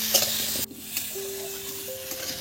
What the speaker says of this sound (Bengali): হ্যাঁ হ্যাঁ হ্যাঁ বেশ কিছুক্ষণ এটা এবার নেড়ে চেড়ে নেবো